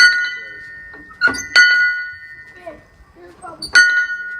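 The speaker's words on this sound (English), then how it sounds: "And I think I want to ring this bell." A bright bell rings out several times with clear, sustained tones, struck in uneven bursts at a campsite, while voices speak quietly between strikes.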